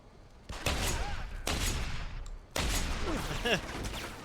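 Heavy bursts of gunfire from guns in the Starfield video game, loud and sustained in three long volleys with brief gaps, and whooshing sweeps mixed into the shooting.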